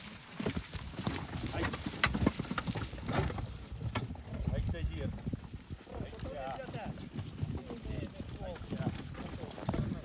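Horses clip-clop along with steady hoofbeats under close, ongoing conversation, with occasional rustling and outdoor background.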